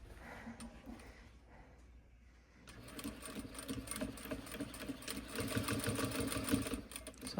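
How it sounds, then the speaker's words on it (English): Sewing machine stitching fabric, starting quietly and then running in a steady, fast mechanical whir with rhythmic needle clatter, close and continuous for several seconds. "now let's stitch that on"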